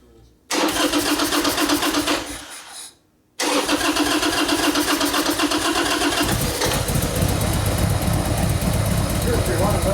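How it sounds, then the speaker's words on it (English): A Harley-Davidson Sportster Custom motorcycle engine cranks with the choke on, catches after a short pause and settles into a loud, steady, lumpy idle close by, with voices talking over it. "choke on. Yes. Right there. Ignition."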